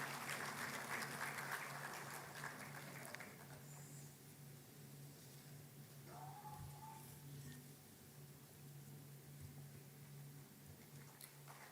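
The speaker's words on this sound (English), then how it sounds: "Please put your hands together and applause for them." Faint, distant crowd applause at an award ceremony at NICMAR University, Pune, a steady patter of clapping that fades slightly and continues quietly throughout.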